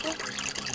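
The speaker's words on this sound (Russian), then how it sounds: "Это родник и фонтан." Spring water flows from a fountain in Krasnokamensk, a steady close splashing trickle with no pause.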